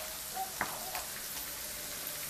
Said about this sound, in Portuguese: E aqui a gente deixa o ovo fritar bem, pra ele ficar bem cozidinho.